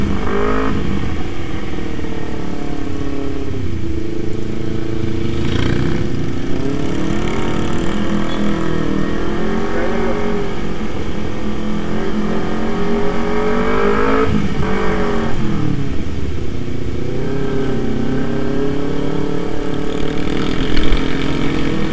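A Kawasaki Z250 motorcycle engine roars loudly and continuously in a tunnel, revving up and down in repeated surges with a boomy, enclosed echo.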